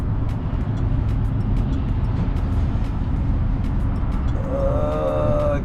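An old car's exhaust through an aging muffler system with turndown tips rumbles at idle, a steady loud low drone that runs unbroken from start to finish.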